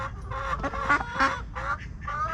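Backyard chickens and young ducks being let out of their coop, a steady run of overlapping clucks, honks and squawks from several birds close by, with no talk.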